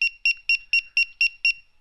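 An iTag Bluetooth tracker tag gives seven sharp, high electronic beeps in a steady rhythm about a quarter second apart. The beeps are close and clear, with no other sound.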